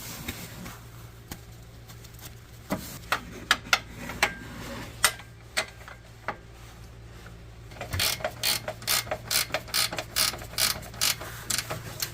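A ratchet snugs up a control arm bolt on a Hyundai Sonata, clicking in scattered short runs, then a faster steady burst of close, crisp clicks near the end, with no talking.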